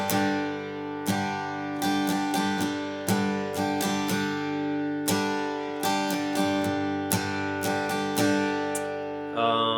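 Acoustic guitar strummed in a steady down-up pattern, bright repeated chord strokes with clear rhythmic accents, played close and alone without voices.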